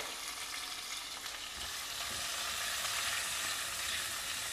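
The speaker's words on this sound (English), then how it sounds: "stir fry all of them together also in the oil" Chopped carrot, beans and capsicum stir-fry together in hot oil, giving a loud, dense, unbroken sizzle that holds steady throughout with no speech.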